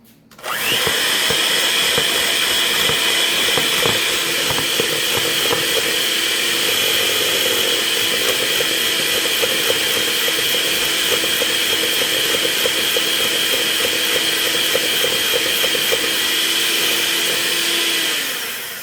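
An electric mixer runs on high through cookie batter with vanilla, a loud, steady motor whir that starts abruptly and holds unbroken for nearly twenty seconds before easing off.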